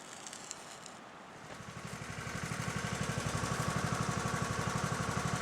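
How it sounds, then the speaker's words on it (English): Pro-Line pump engine idling to feed a South Yuba Mining Company highbanker for gold mining, a steady, rapid, putt-putt engine pulse that fades in and then holds even and fairly close. "our South Yuba Mining Company set up with my Pro-Line pump, feeding it on idle. And that is on idle right there."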